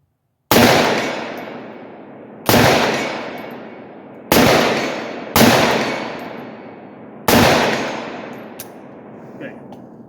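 An AR rifle with a 7.5 inch barrel fires five sharp, loud shots at uneven intervals, each blast followed by a ringing echo that decays before the next.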